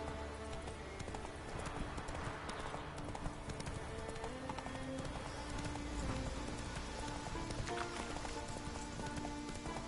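Horse hooves clip-clop steadily at a walking pace in The Witcher 3, with continuous game ambience that resembles rain, and no talking.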